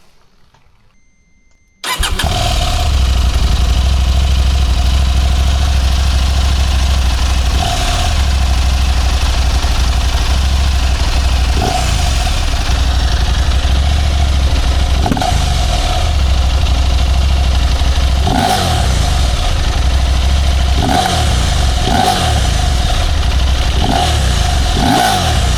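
A 2024 KTM 890 Adventure R motorcycle starts up after a moment of quiet, then idles loudly and close by with a rough, clunky mechanical character, blipped by several short throttle revs throughout, with no talk.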